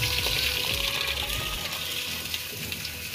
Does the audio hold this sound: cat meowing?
no